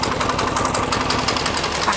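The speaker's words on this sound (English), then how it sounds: "We'll see that idle clear up and get steady." A diesel motorcycle engine idles close by with a dense, rattling knock, steady and unbroken over two seconds, with no voices.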